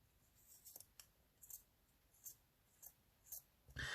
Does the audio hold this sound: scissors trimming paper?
yes